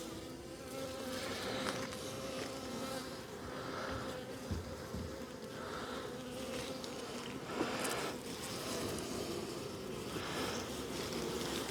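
Honeybees buzz steadily around an open hive during a frame inspection, a continuous close droning hum that swells and fades slightly as bees fly near, with no talking.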